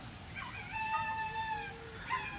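Dogs howling and whimpering in the distance, several drawn-out wavering howls overlapping, fairly faint against quiet background noise, no speech.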